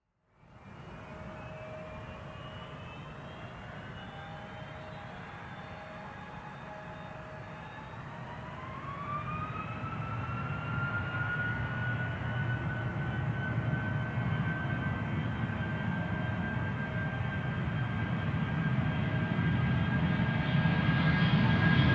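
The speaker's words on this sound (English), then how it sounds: "to get the last 757 UK airline flight depart back to Manchester" A Jet2 Boeing 757 airliner departs Geneva, its jet engines droning steadily with whining tones that rise and build in loudness, heard from a distance for over twenty seconds with no talk.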